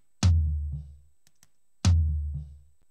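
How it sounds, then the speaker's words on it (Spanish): Two separate hits on a 16-inch floor tom, low-pass filtered, each a deep, booming thud that decays over about a second. Both are close and alone, with silence between them. "Y ahora este tom de pie de 16 pulgadas suena así."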